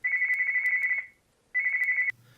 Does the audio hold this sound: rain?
no